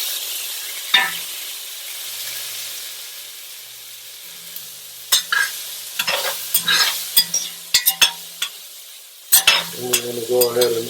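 Vegetables for Caribbean-style black beans sautéing in a hot pan: a quiet low sizzle broken by sharp, close spatula scrapes and clinks that grow busier toward the end, with no talking.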